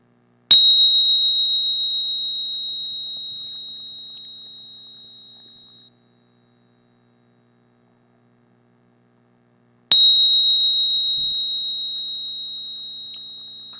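A Tibetan bell struck during meditation, two clear ringing strikes about ten seconds apart, each a pure sustained tone that slowly decays in an otherwise silent space.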